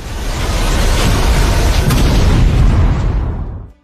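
A huge explosion of clashing blue and purple fire in a stadium roars as a sustained, loud, broadband blast that rumbles for several seconds before cutting off.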